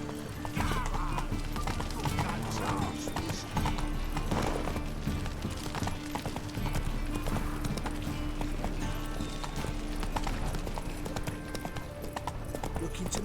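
Hooves of Roach, Geralt's horse in The Witcher video game, clip-clopping steadily on the ground with a continuous rhythmic beat, blended with game ambience.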